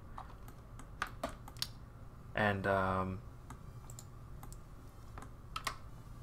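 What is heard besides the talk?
pressing Control J on computer keyboard in Blender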